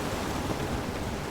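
A waterfall in Dragon Age: The Veilguard gives a continuous, dense roar of rushing water, steady and fairly loud through the whole short stretch.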